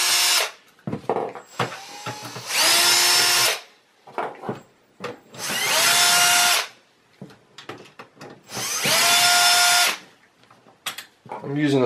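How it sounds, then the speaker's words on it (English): Cordless power drill with a Phillips bit backs out four screws holding the power supply in a Dell Precision T1650 desktop, three long whirring bursts close up with handling clicks and clatter between them. "There are 4 screws in the back, the power supply, so I'm going to use a drill."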